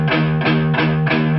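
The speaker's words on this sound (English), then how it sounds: "use the palm muting technique, which is where you're using the palm of your hand to gently touch the strings" Palm-muted electric guitar power chord with gentle palm contact damping the strings, struck four times in an even rhythm, each chug short and thick, close and clear with no voice.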